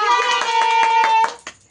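A child claps again at home: a brisk, steady run of close hand claps under a loud, continuous tonal voice, ending with one last clap before the sound fades out.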